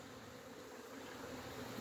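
A dense, continuous buzzing drone of many honey bees inside an overwintering hive, fairly faint and enclosed-sounding, steady throughout with no voices.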